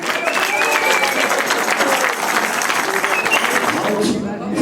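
An outdoor carnival crowd in Valkenburg applauds a marksmen's guild at a key-handover ceremony, loud, sustained clapping with voices mixed in, ending abruptly.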